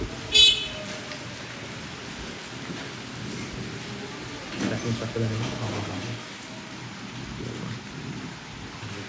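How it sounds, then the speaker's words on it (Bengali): Steady rain falls on a Kolkata street at night under occasional faint voices, with a soft low rumble in the middle. "বৃষ্টি হচ্ছে, বাড়ছে এইসব।"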